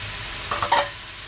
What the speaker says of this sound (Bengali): ভালো করে নেড়ে চেড়ে মশলার সাথে মিশিয়ে নিচ্ছি